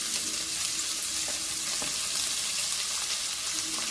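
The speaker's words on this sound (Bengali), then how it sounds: "পেঁয়াজটা ভাজা ভাজা করে নেব।" Onions fry in hot oil with a bay leaf in a pan for a mutton curry, a steady close sizzle with occasional light clinks and scrapes of stirring, no voices.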